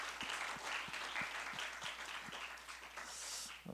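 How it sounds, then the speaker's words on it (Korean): Applause from a church high-school youth congregation: a broad wash of many hands clapping at a moderate distance, fairly even throughout, with soft thumps and a brighter swell near the end. "우리 고3 랩런트들을 위해서 격려의 박수 한번 보낼까요?"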